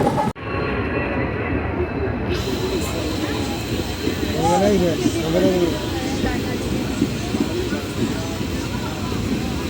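Steady low rumble of a moving train in Assam with rhythmic rattling, pigeons cooing briefly in the middle, and people talking faintly underneath.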